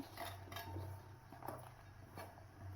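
Onion and gram flour batter being mixed by hand in a bowl, with soft repeated scraping and faint clinks against the bowl, quiet and close, without talk.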